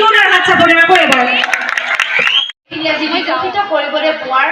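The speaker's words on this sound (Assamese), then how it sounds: "জোৰদাৰ হাত চাপৰি আকৌ এবাৰ" At a school golden jubilee celebration, an audience claps and cheers amid lively chatter, with a host's voice talking over it; the sound breaks off briefly before the crowd noise resumes.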